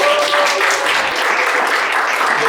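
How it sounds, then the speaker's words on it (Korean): Audience applause welcoming a lecturer to a special lecture on healthy food and the planet, a steady, loud wash of clapping filling the hall. "큰 박수 부탁드리겠습니다."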